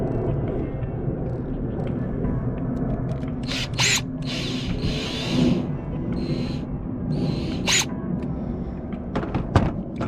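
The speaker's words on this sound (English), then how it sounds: "Tighten this up on the edge so I don't gotta run into this problem of it" A clamp is tightened onto a cold air intake in a Dodge Challenger engine bay with bursts of ratcheting and clicking tool noise and short scrapes, close and moderately loud against a low background hum.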